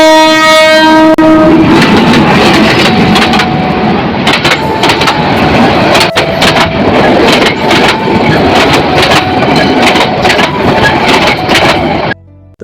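A train passes along a railway line, loud and close, with a horn blast at the start followed by sustained rumbling and rhythmic clattering wheels for about twelve seconds.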